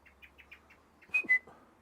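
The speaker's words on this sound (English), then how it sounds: "If I was a bird enthusiast, I'd know what that call meant" Bird call near a nest in an outdoor garden setting: a string of faint chirps opens, then two sharper, louder whistled calls ring out close by, with no talking.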